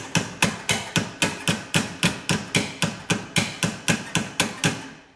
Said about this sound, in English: You should never knock a nail in with scissors, but I don't have a hammer at the moment.